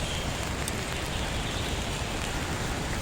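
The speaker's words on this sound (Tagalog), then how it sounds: "Sorry guys, because really it's raining." Steady rain falls outdoors in Taiwan, a dense continuous hiss of drops on surfaces that stays even and fairly close throughout, with no voices.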